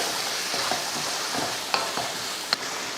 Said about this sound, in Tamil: தேவையான உப்பு உப்பு சேர்த்து கலந்து விட்டுருவோம் நல்லா வதங்கட்டும்